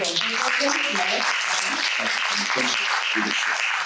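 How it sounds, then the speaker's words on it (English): A live podcast audience applauds in a steady wash of clapping, mixed with cheering voices and crowd chatter, for about four seconds. "Round of applause for"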